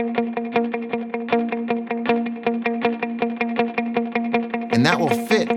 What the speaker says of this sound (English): all we're going to do is just do a palm muted 16th note pattern just on our open G